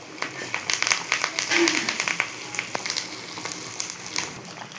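Asafoetida and curry leaves sizzle in hot oil for sambar, a close crackling fry with scattered pops, with a person talking over it.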